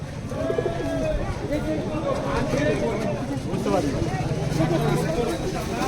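Pigeons coo at a village pigeon market in South 24 Parganas, where large Kaldum birds are on sale; the cooing runs steadily throughout, close and fairly loud, mixed with other birds and background chatter from people talking.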